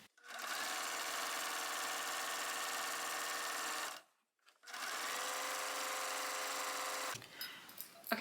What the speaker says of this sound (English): I'm just going to sew one stitch